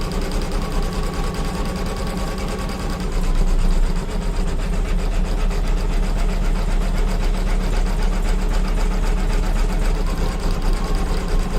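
An embroidery machine stitches felt in a steady, fast mechanical drone, running continuously and close by with no one talking.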